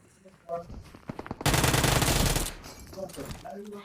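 Automatic gunfire in the mobile battle royale game BGMI rips out as one loud, rapid one-second burst, with someone talking casually before and after it.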